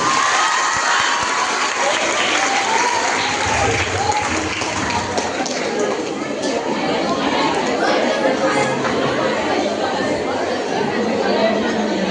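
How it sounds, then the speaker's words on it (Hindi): Crowd of secondary school students at a magic show clapping and cheering to welcome a teacher onstage, a steady loud wash of applause mixed with chatter and shouting voices throughout. "सर आप प्लीज तालियों के साथ स्वागत करेंगे।"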